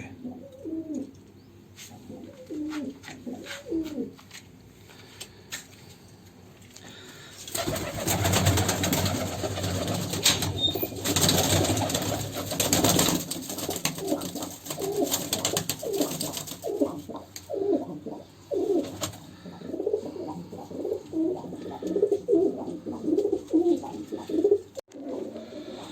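Pigeons of the Dhanne Wale breed, a mixed racing line kept for Punjabi kabutar baazi, make low cooing and bird calls throughout, with a louder burst of flapping or rustling noise in the middle and speech at times in the background.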